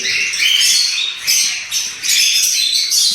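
Lovebirds at a bird fair squawk loudly in shrill, overlapping bursts, a near and busy chorus of harsh calls with short gaps.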